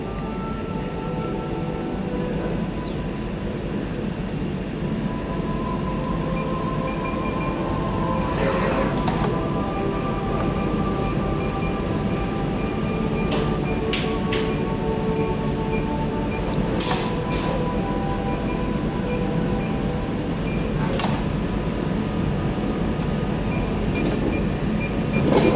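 A dispensing machine fitted with a traditional metal needle runs with a steady, even mechanical drone, occasional faint clicks and soft high chirps over a constant hum, with no talk.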